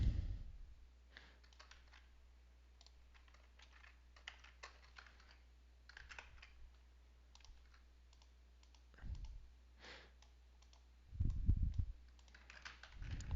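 Typing on a computer keyboard, quiet close key clicks in short irregular bursts separated by pauses, with a few heavier thumps near the end.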